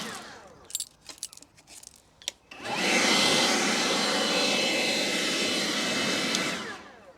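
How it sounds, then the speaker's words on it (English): Husqvarna leaf blower running on its high setting, a loud steady broadband rush that starts abruptly after a few light clicks and rattles and holds constant, close to the listener, before easing off at the end. "Husqvarna very kindly gave us this leaf blower to have a look at"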